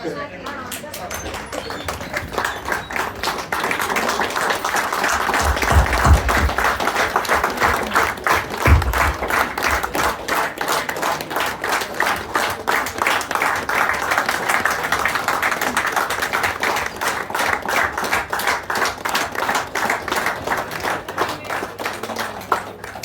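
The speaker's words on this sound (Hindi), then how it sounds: "आगे आगे खड़े होकर तालियां बजाएं" A crowd at a retirement function for Ranvir Singh claps steadily for over twenty seconds, a dense, even wash of hands close by, with voices talking over it.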